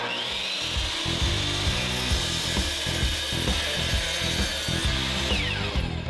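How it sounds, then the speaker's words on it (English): A miter saw cuts a piece of wood for a plant stand, with a steady high motor whine running throughout over rhythmic rasping blade strokes through the timber, loud and close with no talking. "And head to the miter saw."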